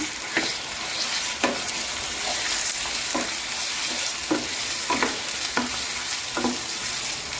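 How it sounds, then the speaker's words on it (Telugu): Mutton pieces frying with ginger-garlic paste in a pan, a steady sizzle punctuated by about eight sharp scraping stirs at irregular intervals, close and moderately loud with no talking. "అల్లం వెల్లుల్లి పేస్ట్ వేసుకుందాం. మటన్ కూడా వేసుకుందాం. రెండు కలిపి మగ్గుతాయి బాగా."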